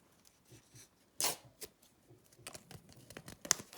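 Paper Kinder Surprise packet being torn open, heard as one loud sharp rip followed by a few short crinkling tears and light rustling, close up with no talk.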